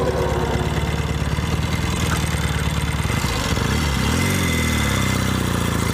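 A 1964 Royal Enfield Interceptor Mk1 motorcycle runs at a loud, steady idle with a rapid, even throb, and its pitch rises and falls briefly as the throttle is blipped near the end.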